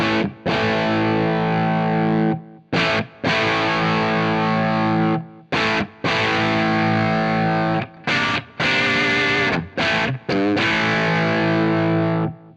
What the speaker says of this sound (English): this is post distortion, both treble and bass